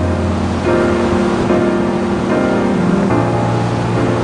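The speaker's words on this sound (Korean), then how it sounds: "힘찬 파도가 쉼없이 밀려와 부서지는 동쪽 땅." Strong sea waves roll in and break along the winter coast of Yangyang in Gangwon, a loud, continuous roar and wash with wind across the microphone and tonal music running underneath.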